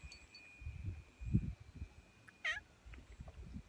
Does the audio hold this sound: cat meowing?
yes